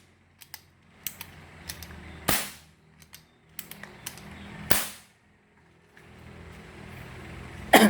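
Loud sharp pops from a motorcycle engine's leaking transfer port, sounding like cap-gun cracks: several isolated bangs at irregular intervals, two especially strong, with faint engine noise between them and no talking.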